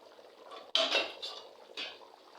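Metal lid lifted off a pot of chicken biryani, a sharp clank followed by scraping metallic rattles and a second lighter clatter, close and fairly quiet, no talk.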